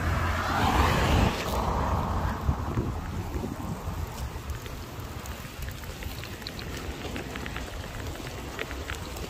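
Strong wind in New Zealand roars and buffets the microphone, heaviest in the first second, then settles into a steady rushing gust with no one speaking.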